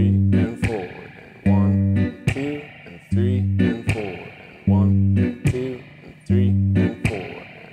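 Fingerpicked guitar groove, alone and close, with a steady pattern of plucked bass notes and sharp percussive slap hits landing on a regular beat, each attack ringing briefly before the next.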